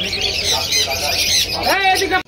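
Pigeons at a Krishnanagar pigeon market squawk and chirp loudly in a dense, busy wash of bird calls, with a voice briefly cutting in near the end.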